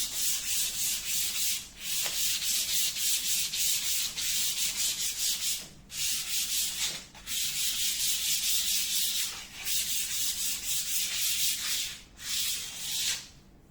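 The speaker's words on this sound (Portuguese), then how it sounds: "é só passar a lixa antes de aplicar a base" Sandpaper rubs back and forth over a smooth painting support before base coat, a steady rhythmic scratchy swishing in long strokes with brief pauses, close and clear.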